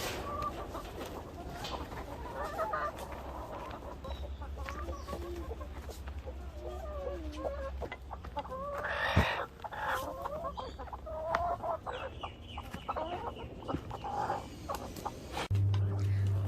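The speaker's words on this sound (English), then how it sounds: "Ja, det är chicken." Chickens cluck and call around a farmyard coop with hens, a steady flurry of overlapping clucks and squawks at close range with a brief sharper call partway through and low background noise throughout.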